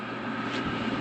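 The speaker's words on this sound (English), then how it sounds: "it lifts up that flapper on the blower, and it just fuels it" A wood furnace blower kicks on as a solenoid lifts its flapper to feed air to the coals. It makes a steady, close, broadband whoosh and rumble with no speech.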